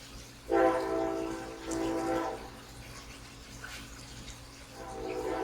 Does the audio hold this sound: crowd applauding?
no